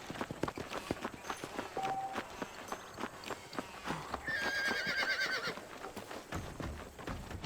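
A horse in the Red Dead Redemption video game whinnies loudly and clip-clops along at a steady walking pace, with other game sounds in the background and no talk.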